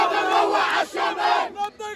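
A large crowd in Gaza cheers and shouts with joy, loud and close, the roar swelling and dipping over two seconds.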